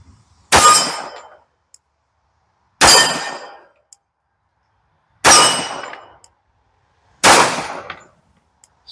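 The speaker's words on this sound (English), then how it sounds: "Just a few rounds on some steel down there." .45 ACP rounds from a Girsan MC1911 pistol striking steel targets downrange: four sharp, loud clangs spaced about two seconds apart, each with a short ringing tail and silence between.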